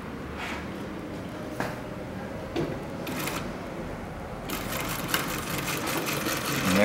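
An Atlas AT2284 sewing machine stitches a regular zigzag, a steady close mechanical whirr with a few clicks and knocks, growing busier and louder toward the end.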